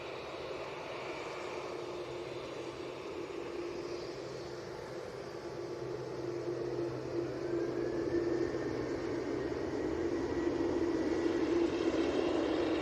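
A TUI airliner taxis off the runway after landing, its engines a steady, fairly faint whine and rumble that builds slightly toward the end, with a thin high tone threading through.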